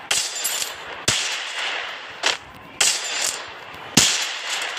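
Gunfire with recoil in the Free Fire mobile game, heard as four or five sharp, separate shots spaced about a second apart, each with a short ringing tail, and no talk.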